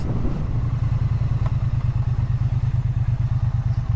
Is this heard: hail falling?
no